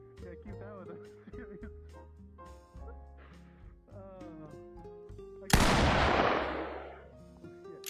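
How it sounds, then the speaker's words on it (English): A single loud gunshot cracks out midway, a sudden sharp blast that decays over a couple of seconds, following stretches of talk; the burst stands out abruptly from the surrounding voices. "Shots fired."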